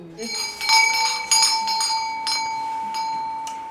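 A hand bell rung to summon servants in a Polish home, bright metallic rings repeating and fading, loud and close, with a voice talking around them.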